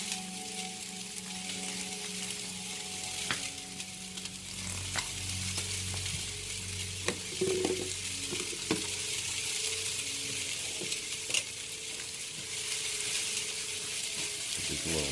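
Country style ribs in honey BBQ sauce sizzle steadily in a pan, a soft continuous frying hiss with occasional faint stirring clinks, no talking.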